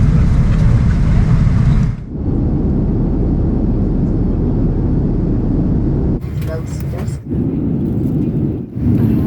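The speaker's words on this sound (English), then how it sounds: "we are landing at Addis Ababa, Ethiopia" Airplane cabin during the landing approach into Addis Ababa, Ethiopia: a loud, steady low roar of engine and airflow that drops out briefly several times before returning.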